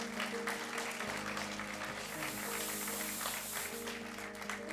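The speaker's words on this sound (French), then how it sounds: "on peut l'applaudir" Applause from a concert audience at the Fondation Pernod Ricard, a steady wash of clapping with sustained musical tones and a faint voice underneath, fairly quiet and even throughout.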